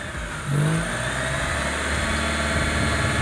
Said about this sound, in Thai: ประมาณสามสี่พันรอบ เร่งยีก